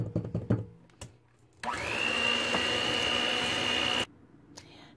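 An electric mixer whirs steadily for about two and a half seconds, creaming sugar, butter and egg for cannabutter banana bread, preceded by a few soft knocks and scrapes and cutting off abruptly.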